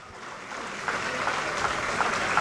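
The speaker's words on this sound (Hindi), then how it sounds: "तालियों की गड़गड़ाहट के साथ आपका इस्तकबाल करें।" Crowd applause swelling at a student award ceremony as a guest arrives, a broad steady wash of clapping that builds gradually and stays fairly distant.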